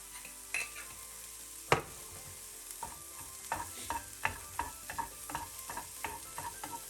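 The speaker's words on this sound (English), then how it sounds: "give them a quick mix in the pan and add a tiny bit of salt in the pan" Vegetables are mixed in a frying pan over low heat, with a faint sizzle and a series of light scraping and tapping stirs that grow more regular toward the end.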